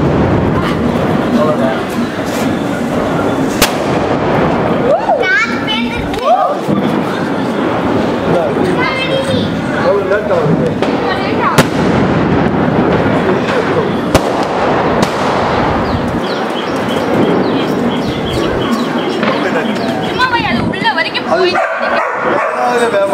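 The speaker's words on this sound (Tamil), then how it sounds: "அது மேலே போய் வெடிக்கும் டபுள் ஷாட்டு." Diwali firecrackers and double-shot aerial fireworks burst in sharp, loud bangs at a family celebration, while a dog barks and whimpers almost throughout and people talk nearby.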